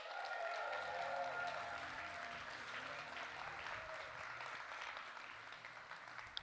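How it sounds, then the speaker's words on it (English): Audience applause from a seated crowd at a motivational talk, steady dense clapping throughout, moderately loud and slowly tapering toward the end with no speech over it. "can we give Carson a huge round of applause?"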